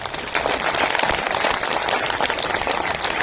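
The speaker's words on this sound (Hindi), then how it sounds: "मैं चाहता हूं कि जोरदार ताली आप लोगों की तरफ होना चाहिए" A large crowd at the Latiya festival applauds loudly in a dense, continuous wash of clapping that holds steady throughout.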